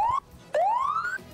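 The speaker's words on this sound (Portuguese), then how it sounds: "Que buzina? Essa buzina tá diferente hoje?" Two rising electronic horn-like tones, a short one then a longer sweeping one, loud and close, with no talking.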